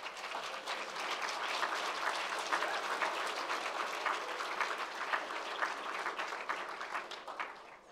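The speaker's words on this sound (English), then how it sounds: "Give yourselves a round of applause." Graduates at a virtual university degree ceremony give a steady round of applause, dense clapping that holds evenly for the whole stretch without speech.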